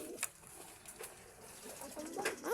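Pigeons coo faintly in short, scattered calls against a quiet background, with a slightly stronger call near the end.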